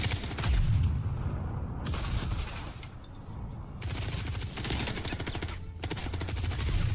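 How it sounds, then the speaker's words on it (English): Heavy sniper rifle fire in Squadron 42, the Star Citizen single-player campaign, comes as deep, booming shots over a dense, constant wash of battle noise throughout. "That sniper just sounds so fucking beefy though."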